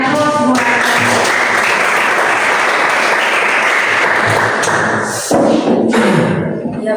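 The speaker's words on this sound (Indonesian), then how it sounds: "semua berikan aplaus semua" A classroom audience breaks into loud, sustained clapping that fills the room, pauses briefly, then resumes as strongly; some voices mix in.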